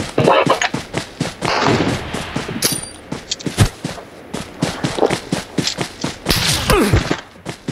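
Gunfire in PUBG Mobile, with loud, close shots fired in rapid clusters and short bursts throughout, mixed with footsteps and excited voices talking over the shooting.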